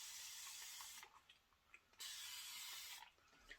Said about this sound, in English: I just got this Flairosol continuous spray bottle off of Amazon